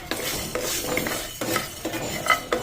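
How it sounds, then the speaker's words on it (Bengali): Whole spices dry-roasting for village-style handi chicken, stirred in a pan with a steady scraping rustle and a few sharper clinks of the utensil, close and moderately loud, no talk. "তো গোটা মশলাটাকে একটু ভালোভাবে ভাজতে হবে"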